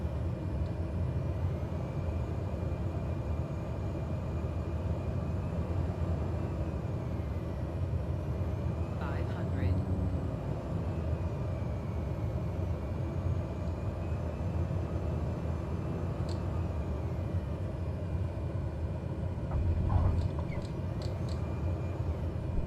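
A simulated aircraft engine drones steadily through a steep approach and landing at Lukla Airport in Microsoft Flight Simulator 2020, with a constant low hum and a few faint clicks and beeps over it.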